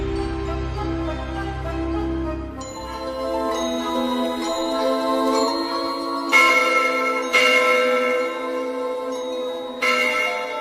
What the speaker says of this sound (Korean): 그때 종이 울렸다.